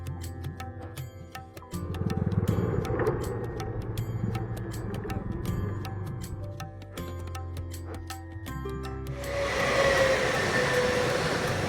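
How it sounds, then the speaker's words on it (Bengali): A train runs continuously as a drama sound effect, a steady rumbling clatter of wheels on track with rhythmic ticking, swelling louder and hissier toward the end, no voices. "দীর্ঘ ট্রেন যাত্রা শেষে উত্তরপ্রদেশের গোরখপুর স্টেশনে এসে নামল সুকুমার"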